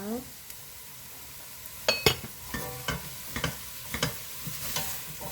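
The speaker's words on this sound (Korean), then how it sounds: "그렇게 해서 같이 한번 볶아주세요." Beef and radish sizzle steadily in a pot while a utensil scrapes and clacks against the metal in irregular strokes, close up.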